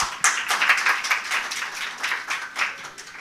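A small audience claps for a panelist being introduced at a conference side event; the claps are irregular and moderately loud, rising and falling in bursts.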